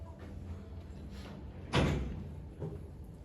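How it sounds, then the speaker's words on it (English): A door swung shut in a church meeting room, one solid thud standing out from low background murmur, near and moderately loud. "Manasa, close the door."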